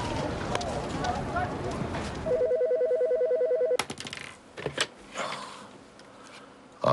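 A telephone rings in a steady electronic pulsing burst for a little over a second, then is cut off as the handset is picked up amid shuffling and background noise.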